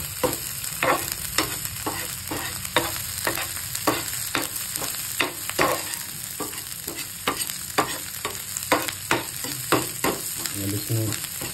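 Ginger garlic paste is stirred in a pan for a dhaba-style capsicum curry, with a steady sizzle under a run of regular scraping strokes of the spoon against the metal.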